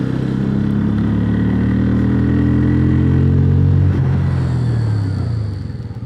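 A Bajaj Pulsar motorcycle fitted with ABS is ridden at about 60 km/h for a front brake test. Its close, steady engine drone holds, then eases and fades in the final moment as the bike slows.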